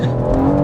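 A BMW M140i spins its wheels, tires squealing loudly over a strained engine note in a short, close burst.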